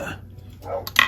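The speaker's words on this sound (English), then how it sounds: "So if you can hear dog barking right now" A dog barks a few times in short bursts near the end, fairly distant and faint over a quiet room, heard from inside a home behind a gate.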